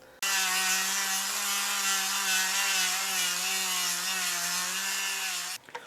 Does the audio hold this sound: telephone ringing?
no